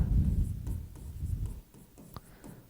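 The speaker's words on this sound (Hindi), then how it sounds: "मैं आपके सामने लिख रहा हूं" Writing on a board during a Class 12 chemistry lesson, short scratchy strokes and taps of the marker or chalk repeating close by, with a low hum early on and no talk.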